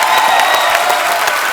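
Studio audience applause fills The Kapil Sharma Show set, a loud, dense, even wash of clapping that stays continuous throughout with no single voice standing out.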